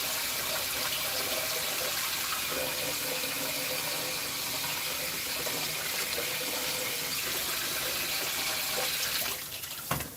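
Tap water runs steadily into a kitchen sink while pots are washed, a continuous loud splashing gush that shifts and breaks up near the end.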